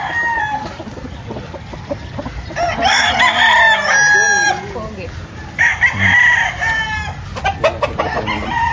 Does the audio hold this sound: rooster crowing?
yes